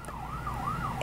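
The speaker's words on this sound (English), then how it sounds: "I apologize for the little siren you hear." A wailing ambulance siren from a hospital across the street sweeps steadily up and down, fairly distant but continuous throughout, with a low background hum beneath it.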